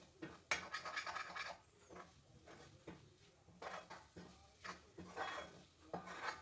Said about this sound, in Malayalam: പൊടികളുടെ എല്ലാം പച്ചമണം മാറുന്നിടം വരെ നന്നായിട്ട് വഴറ്റിയെടുക്കണം